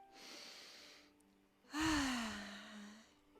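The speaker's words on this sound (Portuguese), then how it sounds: "Você vai fazer uma respiração bem profunda." A single deep breath: a long, soft inhalation, a short pause, then a fuller, audible exhale that trails off, close and quiet with no speech over it.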